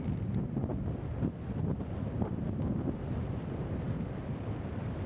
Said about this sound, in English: Very, very windy and cold today.